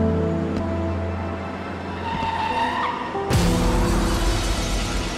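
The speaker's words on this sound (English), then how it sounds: "So there was a car crash?" Car skidding in a crash in a music video, a tire squeal sliding through the middle, then an abrupt loud broadband impact near the end that stays dense and rough.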